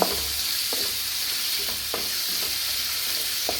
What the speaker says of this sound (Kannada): ಹಾಕಿಬಿಟ್ಟು ಸ್ವಲ್ಪ ಫ್ರೈ ಈ ಥರ ತಿರುಗಿಸಿದ್ರೆ ಸಾಕು